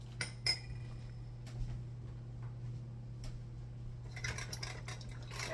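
Metal clinks and taps from a whisk being picked up and knocked against a bowl while making a Kentucky butter cake, a few sharp isolated clicks, then a quicker cluster of clinks, set against a steady low kitchen hum.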